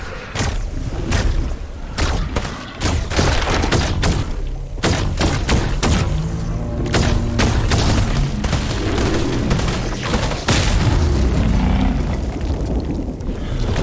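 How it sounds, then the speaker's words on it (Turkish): Explosions and gunfire in the video game Fortnite: a dense barrage of booms, thuds and sharp bursts, loud and nearly continuous. "O patlamayı yeme."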